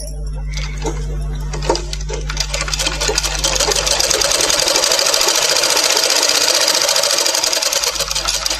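A sewing machine runs a fitting seam on a blouse, its rapid mechanical whirr and rattling stitch loud and close, steady throughout and speeding up slightly partway, with a low motor hum underneath.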